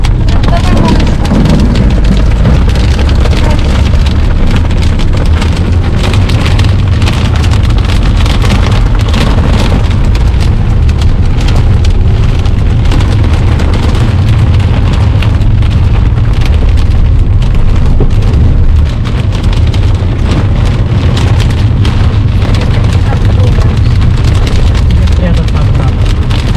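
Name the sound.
hail hitting the car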